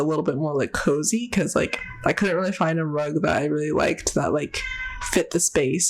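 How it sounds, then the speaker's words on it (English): A pet cat meows repeatedly in a house, several drawn-out vocal meows mixed in with and under someone talking nearby. "one of the cats is meowing right now"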